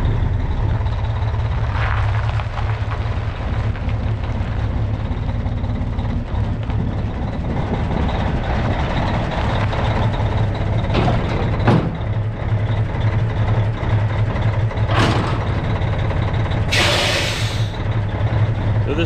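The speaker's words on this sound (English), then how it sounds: "This truck idles a little rough when it's cold." A semi truck's diesel engine idles roughly on a cold morning, a steady low rumble close by, with a few brief sharp hisses and beeps rising over it.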